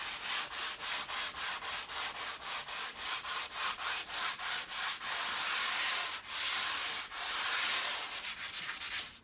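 Hand sanding a shellac finish with 800 grit sandpaper, a steady run of quick back-and-forth rasping strokes, close and alone, then a few longer, slower passes toward the end.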